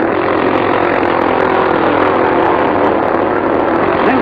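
Dense, roaring engine noise from 1946 speedway motorcycles racing flat out, with the match-race machines straining continuously and loudly throughout, without a break.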